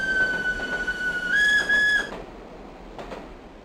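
A nostalgic passenger train sounds its whistle, a long steady tone that rises in pitch partway through and then cuts off, followed by a couple of short fainter toots over a low rumbling background.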